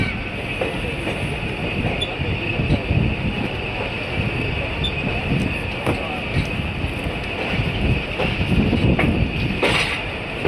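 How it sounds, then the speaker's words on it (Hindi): The 47 Up Rehman Baba Express rolls out of Hyderabad Junction station, its steady broadband rumble with a faint rattle and wind buffeting running continuously and close by, with no talk over it. "अब हमारी ट्रेन चल पड़ी है हैदराबाद जंक्शन रेलवे स्टेशन से।"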